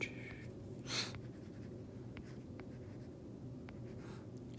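Marker or chalk writing on a board during an AP physics lecture on momentum and impulse, faint scratchy strokes in a quiet room with a soft rustle near the start.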